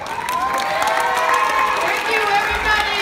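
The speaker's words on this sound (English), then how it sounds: "let's give our wonderful students a round of applause" Audience at a students' talent show cheers and applauds steadily and moderately close, with scattered shouts and whoops over dense clapping, plus some voices mixed in.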